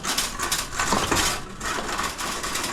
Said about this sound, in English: that's a sad excuse for our cart. Way too noisy.